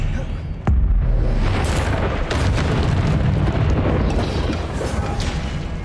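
A Confringo spell explosion in Hogwarts Legacy: a sudden heavy boom followed by a sustained rumbling blast and crackling debris, with spell effects continuing underneath.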